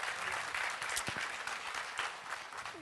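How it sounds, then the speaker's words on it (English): Audience at an equality data conference session applauding steadily for about three seconds, a dense, even wash of clapping from a sizeable crowd with no talk over it. "And of course, an applause to her."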